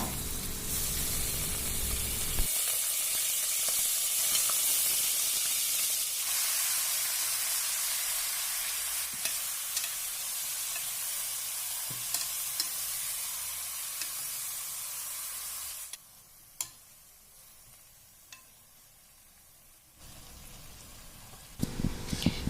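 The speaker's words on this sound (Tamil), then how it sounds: "சிக்கன் போட்டுக்கலாம். ஒரு 2 மினிட்ஸ் ஃப்ரை பண்ணிக்கலாம் நல்லா." Chicken pieces frying in a pan with cinnamon and cloves for a Tamil chicken kulambu, giving a steady, loud sizzle throughout that quiets somewhat toward the end, with a few faint clinks and no talking.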